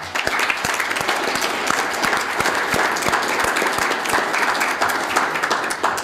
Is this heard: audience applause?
yes